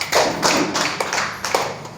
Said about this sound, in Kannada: ಬರ್ಲಿ ಜೋರಾಗಿ ಚಪ್ಪಾಳೆ.